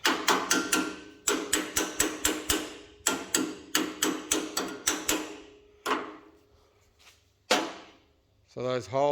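A hammer strikes a metal insert being driven into a slot on a heavy steel workpiece, a loud, close run of sharp metallic blows in quick rhythmic bursts, then a few slower, spaced hits with ringing decay.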